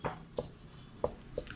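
Chalk or marker strokes on a board during a Sanskrit lesson for a class, four short scratchy taps spaced irregularly, close and fairly quiet with faint room tone.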